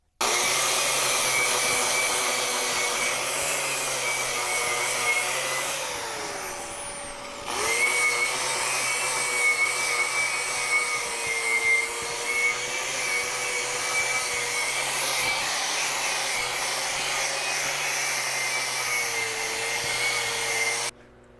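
A power tool strips paint from the edges of steel pipe and C-channel, giving a loud continuous whine and grinding hiss. It drops briefly midway, then resumes steadily and runs on alone.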